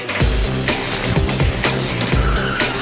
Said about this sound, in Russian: Автомобиль даже слегка любит ехать боком.